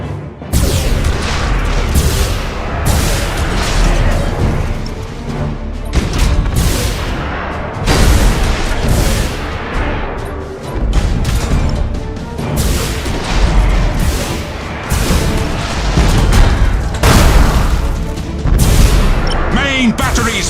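Warship main battery cannons firing in Battlefleet Gothic Armada 2, a dense, continuous barrage of heavy booms and crashing impacts rolling on loudly throughout, with voices calling out over the din.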